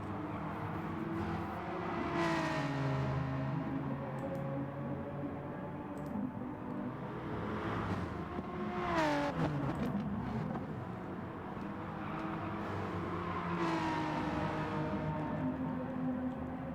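Super Touring race cars lap the Maggiore East circuit in GT Sport, engines rising and falling through gear changes, with several cars passing at a moderate, steady level and no talk.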